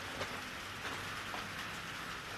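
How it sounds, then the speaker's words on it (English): Rain patters steadily on a small tin roof, a dense, even hiss with faint individual drop taps and no voices. "You can hear the rain."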